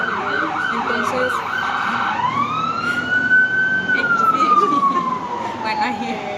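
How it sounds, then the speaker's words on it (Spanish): An ambulance siren sounds close by on a street, first a fast yelping wail, then shifting to a long rising and falling tone that grows louder and passes. "ahí hay ambulancias"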